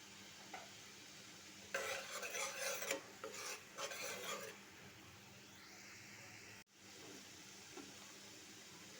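A spatula scrapes and stirs prawns with sugar and chili powder in a pan, a few seconds of brisk rasping strokes over a soft sizzle, followed by quieter frying and one sharp clunk.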